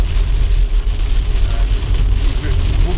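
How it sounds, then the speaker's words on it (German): Heavy thunderstorm rain drums on the windshield of a small aircraft at an airport, a dense, steady roar under a low rumble, while someone talks over it. "Wir haben jetzt hier gerade ein Gewitter genau über dem Flughafen."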